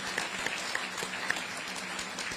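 An audience at a ferry terminal event in Carteret, New Jersey claps in a sustained, fairly distant round of applause, even and steady, with a few sharper individual claps standing out.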